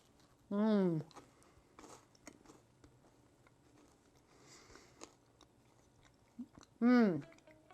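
Quiet chewing and small crunches of a gluten-free toffee pumpkin cookie, bracketed by two short hummed vocal sounds from the eater.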